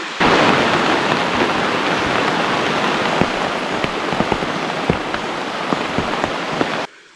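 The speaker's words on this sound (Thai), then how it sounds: "เพื่อนครับฝนตก" Heavy rain pouring down in a tropical forest, a loud, dense steady hiss with scattered sharper drips and drops hitting nearby surfaces until it cuts off at the end.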